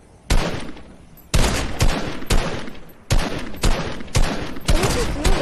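Bursts of gunfire in Fortnite: a rapid sequence of loud, sharp shots in several clustered volleys with brief gaps between them, close and dominant, with no talking over them.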